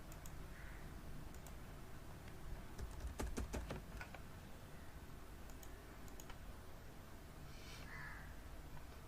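Quiet typing on a computer keyboard, a short cluster of crisp key taps in the middle over steady room hiss, with a crow cawing faintly in the distance.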